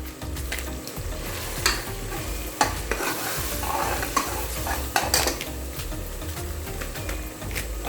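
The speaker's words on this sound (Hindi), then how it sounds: "अभी से थोड़ी देर तक हम भून लेते हैं। मसाला हमने फ्राई कर लिया।" Tomato masala with a packet of Shan biryani spice mix sizzles in oil for chicken biryani, with a spoon stirring and scraping the pan in regular strokes and clinks over a steady close frying hiss.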